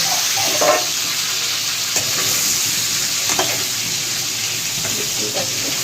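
Chicken pieces sizzle loudly in hot oil, and a utensil stirs them with a few scraping strokes against the pan under a steady frying hiss, with no talking.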